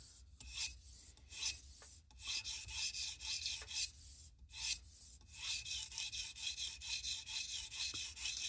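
A knife tip is stroked on a Tsprof Pioneer guided sharpener in quick, rhythmic abrasive rasps, close and crisp, with brief pauses between bursts of strokes.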